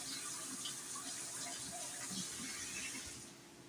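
Hot water runs steadily from a kitchen tap to rinse a spatula, a close, even rushing hiss that tapers off slightly at the end, with no talking over it.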